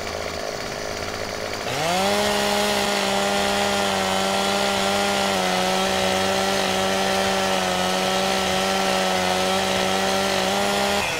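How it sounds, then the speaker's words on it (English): In the Farming Simulator 2017 video game, a chainsaw cutting trees starts up and then runs loud and steady at a high whining pitch, droning without a break for the rest of the stretch. "It's a little difficult to try and talk over a chainsaw, as you know."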